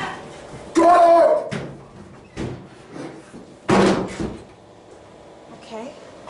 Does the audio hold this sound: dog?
no